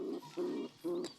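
Pigeons coo softly nearby while their eggs begin to hatch: two low, rounded coos followed by a faint chirp, with no talking.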